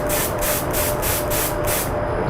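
A spray gun sprays lacquer dyed with TransTint in close, loud hissing bursts, about seven short pulses in a steady rhythm.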